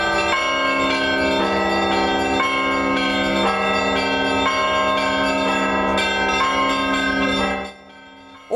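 Church bells ring continuously in a loud, overlapping peal of sustained tones, then stop abruptly near the end, leaving near silence.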